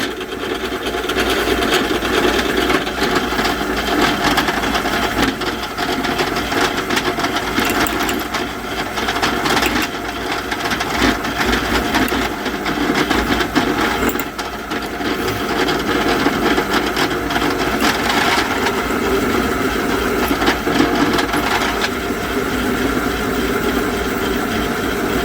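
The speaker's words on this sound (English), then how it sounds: "Nice quiet drill press, this one." A drill press runs continuously with a steady mechanical whir and some grinding, loud and close, with no pauses or voices throughout.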